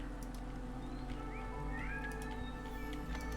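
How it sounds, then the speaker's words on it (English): A cat meows and yowls in the background with a few drawn-out cries, faint behind a steady, droning hum. "That's my cat in the background. I apologize if you can hear her screaming."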